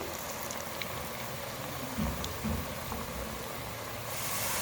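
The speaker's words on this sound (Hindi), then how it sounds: "फ्रेंच फ्राइज़ हमारे फ्राई हो रहे हैं" French fries frying in hot oil, a steady soft bubbling hiss with a few faint pops, continuous and fairly quiet throughout.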